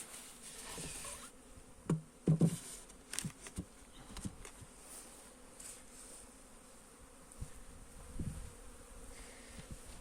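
Bees buzzing close by, with a few brief louder hums rising over a low outdoor background, then fading to a quieter drone.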